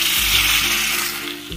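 Loud, steady sizzling of hot spiced oil tempering poured onto besan kadhi, a bright hiss that slowly fades over a second and a half, with a faint clink at the end.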